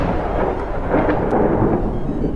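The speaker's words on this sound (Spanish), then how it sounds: "Fue como un trueno." Thunder sound effect in a spoken story, a loud, deep rolling rumble that swells and churns throughout, heard alone without talk.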